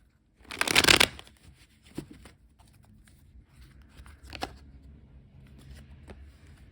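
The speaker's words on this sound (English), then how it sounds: "I will shuffle this first deck just a few more times." A deck of tarot cards is shuffled with one loud riffling burst near the start, followed by softer scattered taps and slides of the cards, close and quiet with no talking.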